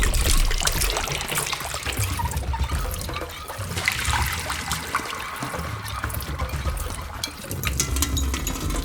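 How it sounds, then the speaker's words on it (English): Water from a kitchen tap trickling and dripping onto dishes and utensils, a continuous close splashing and pattering with scattered sharp clinks, fairly loud and steady throughout. "he subconsciously vibes with the sounds of the water drops hitting the utensils in various ways"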